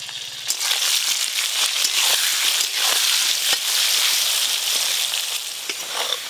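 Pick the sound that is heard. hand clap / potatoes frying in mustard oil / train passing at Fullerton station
potatoes frying in mustard oil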